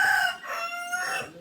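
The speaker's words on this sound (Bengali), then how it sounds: "কতদিন পরে মোরগের ডাক শুনলাম" A rooster crows once in a rural spot in Khagrachhari, a clear, fairly close call that rises and then trails off over about a second and a half.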